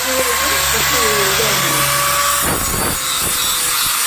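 Knife sharpening at an iron blacksmith workshop, a continuous loud grinding whine with a steady motor drone under it, then rougher scraping bursts toward the end as the blade presses against the grinder.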